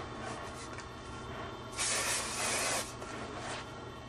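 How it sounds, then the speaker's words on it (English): A couple of short hairspray bursts hiss close by, the longest in the middle, over a faint steady background. "So tease, a little bit of spraying."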